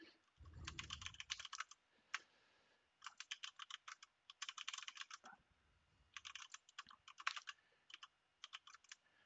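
Rapid bursts of computer keyboard typing, clicky keys pattering in uneven clusters with short pauses between, close and fairly quiet, while someone edits; a brief low thump near the start.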